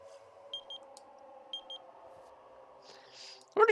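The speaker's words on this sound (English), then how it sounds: "Beep." Countdown beeps in the Danganronpa 2 video game: two separate bursts of three quick, high-pitched electronic beeps over a low droning hum, ending in a sudden louder sound.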